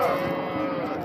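A calf at the Barda livestock market gives one close, loud, drawn-out moo lasting about a second, with market noise underneath.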